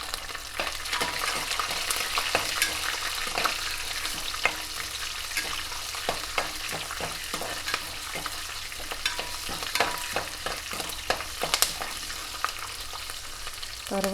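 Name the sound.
green chilies frying for Andhra lemon rice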